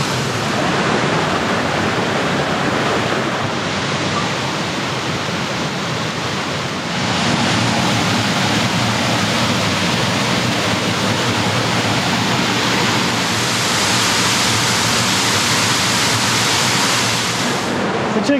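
Stream water surging out from underground after heavy rain in Sydney's Northern Beaches, a dense, steady rushing roar, close and loud, swelling slightly partway through, with no voices.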